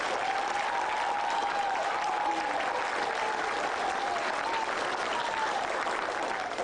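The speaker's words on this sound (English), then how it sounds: "why don't we all give them one more round of applause" Applause from a spring band concert audience, a dense and steady clapping that holds at an even level for the whole stretch with no talking over it.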